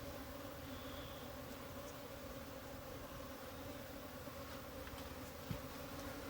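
Honeybees hum around a hive as a beekeeper works it. A faint, continuous buzzing drone carries on without a break and with no voices.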